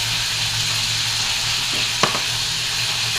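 Chicken sizzles steadily in a frying pan, a constant close hiss with a brief scrape or clink partway through.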